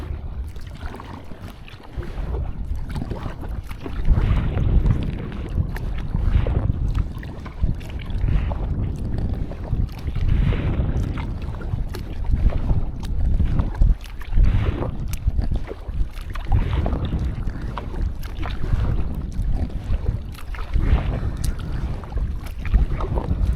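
Steady wind buffeting a microphone while a kayak is paddled into the wind on open water, a constant low rumble with gusty surges and faint water sounds, no talking.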